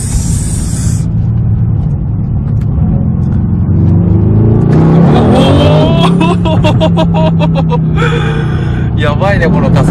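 A supercar accelerates hard inside the cabin, its engine roaring loudly with a rising, rumbling drone and rapid gear-driven pitch sweeps, while people talk excitedly over it.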